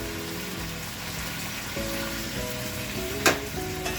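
Chicken fries in a pan with whole garlic and chicken masala, giving a steady close sizzle with soft stirring and one sharp clatter near the end. No one speaks.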